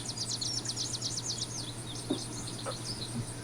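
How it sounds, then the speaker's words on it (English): Birds chirp in a forest soundscape, a quick series of high, bright tweets and trills repeating across the clip over a steady low hum, with a few soft knocks and no talking. "I clicked on this forest sound set, and it's got a bunch of birds and shit chirping"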